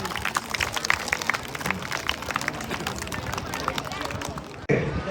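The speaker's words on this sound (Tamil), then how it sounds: "அதான் கைதட்டுக் கொள்ளலாம்" Audience clapping at a Nilambur Valli Kummi festival dance, a dense, continuous patter of many hands with crowd chatter mixed in, ending in a sudden break near the close.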